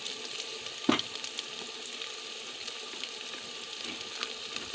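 Garlic and spices frying in oil for dal, a steady soft sizzle close by with one brief sharp clink near the start, no talking.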